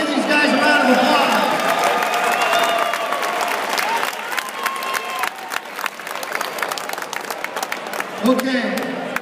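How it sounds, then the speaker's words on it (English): A crowd applauds and cheers loudly after a fight, the clapping thinning out toward the end while a voice speaks over it. "Let's give these guys a round of applause."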